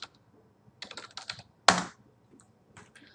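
Keys are tapped on a computer keyboard in short bursts of quick clicks, with one louder strike in the middle and soft scattered taps afterward.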